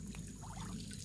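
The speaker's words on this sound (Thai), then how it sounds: "น้ำไหลออกมาจากมันตรงน้าหั่นน่ะ" Water pours and trickles steadily at close range, a soft continuous splashing with no voices.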